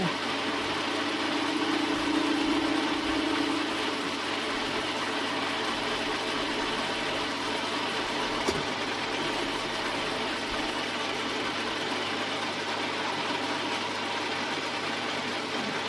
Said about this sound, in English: This lathe is Imperial.